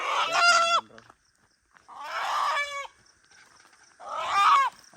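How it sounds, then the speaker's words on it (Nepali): A rooster crows loudly and close by three times in a row, each crow a drawn-out call lasting about a second, with short pauses in between. "भाले चाहिँ बहुत कराउँछ"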